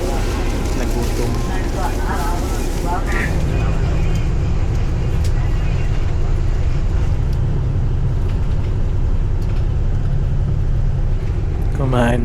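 Motor tricycle engine droning steadily on the way to the port in Bacolod, a continuous loud rumble with road noise and people talking throughout.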